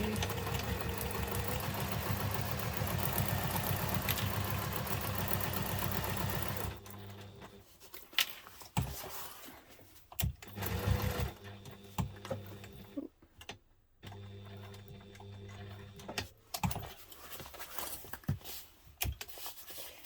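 Sewing machine stitching an urban messenger diaper bag, a loud continuous mechanical whir for several seconds, then stopping into intermittent clicks, knocks and handling noises as fabric and thread are adjusted.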